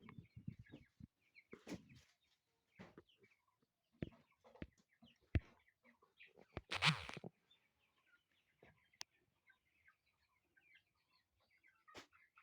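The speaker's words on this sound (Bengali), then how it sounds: "আপনারা ফার্মটা দেখেন এবং মুরগির বাচ্চাগুলো দেখবেন।" Native chickens and chicks on a small netted home poultry farm give scattered clucks and chirps with occasional wing flaps and one louder squawk, mostly faint and sparse with quiet gaps between.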